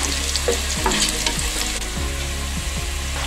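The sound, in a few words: tempering spices frying in oil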